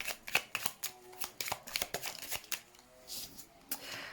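Tarot cards are shuffled and riffled for a reading in a series of sharp, crisp flutters and slaps, close and fairly quiet, with a brief pause partway through.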